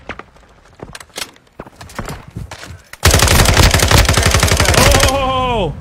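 Gunfire in Call of Duty Modern Warfare II: scattered single shots and short bursts at first, then a loud sustained rapid machine-gun stream that ends in descending ringing tones.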